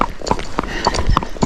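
Hooves of Zorro, a Tennessee Walking Horse under a rider, clip-clop at a steady, unhurried forward pace, sharp near hoof strikes repeating over low outdoor rumble.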